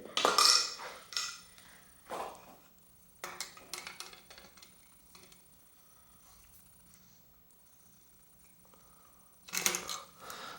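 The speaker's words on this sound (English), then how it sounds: "using a hex wrench on this one I'm just going to go ahead and tighten it" Small metal clicks and taps from a hex wrench tightening an ergo brake lever on a vintage bicycle handlebar, a few sharp ticks at the start and end with quieter fiddling between, close and fairly faint.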